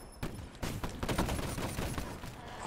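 Slow, steady machine gun fire in the Call of Duty Black Ops gun game mode, a rapid string of shots running loud and continuous through the clip with no talk over it.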